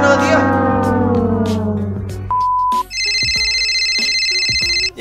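A phone ringtone plays for an incoming voice message in the mobile game Indian Bikes Driving 3D, a bright electronic melody of steady, sustained repeated tones with short gaps, loud and clear over a fading musical passage.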